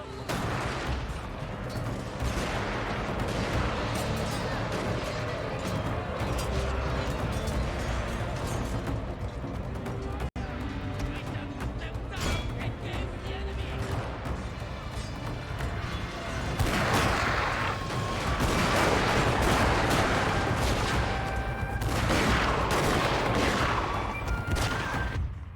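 Massed gunfire and battle clamor from a Shogun 2: Total War fight with a fantasy mod, a general firing revolvers amid a dense, continuous barrage of shots and crashes with no talking.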